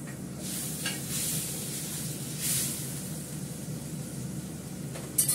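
Fish sizzles in a hot pan with a steady, close hiss of frying that swells briefly in places and stays even throughout, ending with a small clatter.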